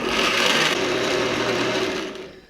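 A blender chops tomatoes for cold miso tomato soup, a loud steady motorised whir running for about two seconds before spinning down and fading, with no talking.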